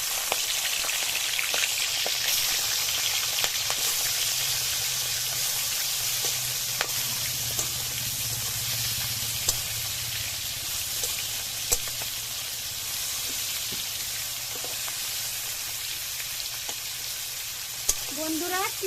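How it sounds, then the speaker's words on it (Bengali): Prawns frying in mustard oil in a wok, a loud dense continuous sizzle and hiss close by, with a few faint clicks of a utensil scattered through it. "চিংড়ি মাছ বেশি ভাজবো না, অল্প করে ভেজে নেব।"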